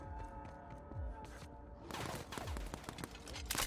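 Rapid bursts of gunfire in The Outer Worlds during a fight with a mega primal, scattered sharp shots growing denser and louder in the second half over a busy game soundscape.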